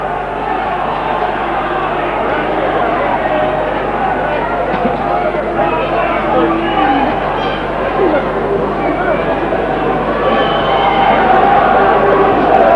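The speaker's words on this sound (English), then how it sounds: "As the crowd get behind the amateurs now." A crowd at a rugby league match at Hilton Park between Leigh East and Bradford Northern keeps up a steady roar and murmur of support that swells slightly toward the end, under a commentator's continuous talk.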